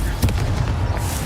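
A Confringo spell explosion in Hogwarts Legacy lands as a brief booming burst amid a thick, rumbling wash of game noise.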